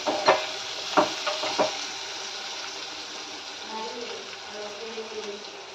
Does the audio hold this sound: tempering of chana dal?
yes